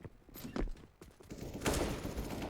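Pistol shots ring out in a Counter-Strike match, a ragged run of sharp gunfire bursts mixed with other in-game noise, some cracks close and loud, others farther off.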